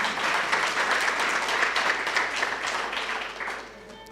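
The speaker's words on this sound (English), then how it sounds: "Can we clap hands for the Premier?" An audience at the official opening and renaming of the Ibhayi building claps hands for the Premier, a dense, moderately loud round of applause that holds steady and then tapers off near the end.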